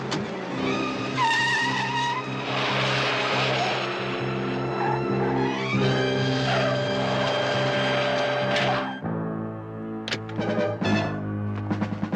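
A car chase in a Barnaby Jones episode: engines roar and tires skid and squeal loudly for several seconds, followed by a few sharp impacts and clatters.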